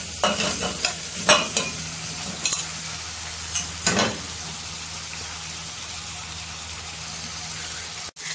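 Pieces of lung and tripe fry with garlic in a pan under a loud, steady sizzle. Sharp stirring clatters come in the first few seconds, and the frying then settles into an even hiss.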